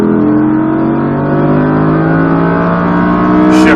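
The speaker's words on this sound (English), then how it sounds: "Squeeze back onto that gas" An Audi R8 V10+ accelerates hard on a race track, the V10 engine roaring loud and close from inside the car with a steadily climbing pitch, then a sharp shift near the end.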